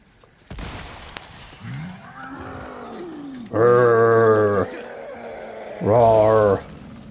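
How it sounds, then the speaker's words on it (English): A giant pig monster in Resident Evil 4 gives two loud, harmonic bellowing roars, each about a second long, with lower grunts and growls leading into them over a dim background. "Roar."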